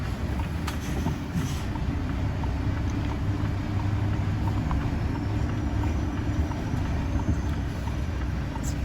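A vehicle stuck in snow spins its wheels against a curb on a snowy street, a steady engine drone and grinding rumble holding continuously for the whole stretch, fairly loud and close, with no talking.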